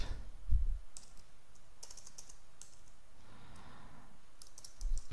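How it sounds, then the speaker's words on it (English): Quick clicking keystrokes on a computer keyboard, scattered in short bursts across a quiet room, with a couple of louder soft thumps at the start and end. "here I'm going to type"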